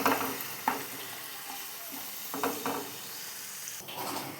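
Onion, garlic and ginger frying in hot oil, a steady bright sizzle with occasional stirring scrapes and clinks over the continuous hiss.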